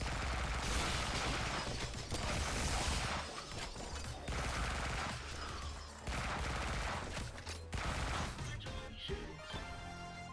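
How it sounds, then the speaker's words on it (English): Dense, continuous video game gunfire while running, loud overlapping shots and crashes filling the whole stretch with no clear pauses. "Just run and shoot."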